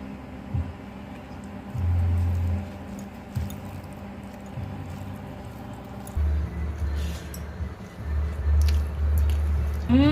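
Someone eats home-style country chicken curry with potatoes in a thin gravy, making soft wet squishing and chewing sounds in close, irregular bursts over a faint steady tonal background.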